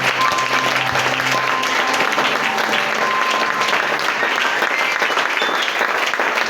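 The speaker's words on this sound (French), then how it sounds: "Est-ce qu'on peut acclamer le Seigneur?" A congregation applauds in a church, producing a sustained, dense wash of clapping with a few cheers and voices mixed in, loud and continuous throughout.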